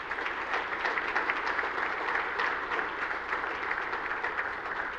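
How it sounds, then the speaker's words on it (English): Audience applause at an awards evening honoring local nominees, a dense, steady wash of clapping from a sizable crowd that holds at an even level for the full stretch, with no voices rising above it. "Let's give another round of applause to tonight's nominees."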